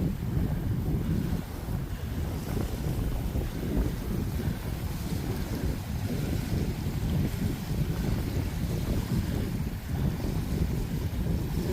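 Strong coastal wind roars and buffets the microphone near marshes by the sea, a constant low rumbling rush with no let-up and no voices heard.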